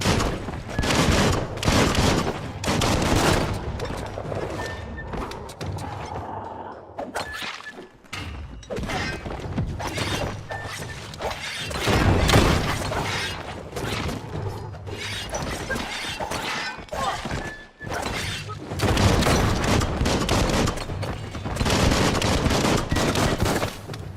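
Rapid automatic gunfire rattles through a Biomutant video game battle, with dense overlapping bursts, thuds and impacts, loud and nearly continuous.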